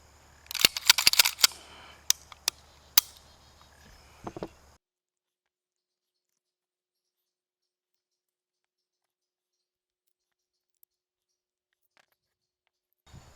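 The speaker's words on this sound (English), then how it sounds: "So what I want to do now is pull this gun apart, take a look at the insides" A Coonan .45 Auto pistol is taken apart, giving a burst of sharp metallic clicks and snaps over about four seconds, followed by near silence.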